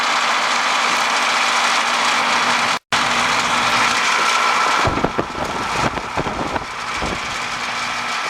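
An Aqua Comfort pool heat pump with a bad fan motor gives a loud, steady mechanical drone that cuts out briefly, then returns with harsher rattling and knocking toward the end.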